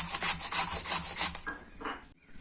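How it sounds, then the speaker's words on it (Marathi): Raw mango rubbed against a hand grater, giving a rhythmic series of rasping scrapes, close and fairly loud, with a short pause before a final few strokes. "सर्व आंबा मी इथे किसून घेणार आहे"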